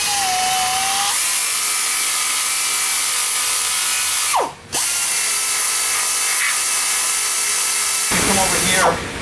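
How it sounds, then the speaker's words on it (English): A power tool grinds paint off a weld, a loud steady high whine running almost throughout, dipping briefly midway as the tool lifts off, then resuming and rising near the end. "we're going to have to remove that paint and properly condition that weld"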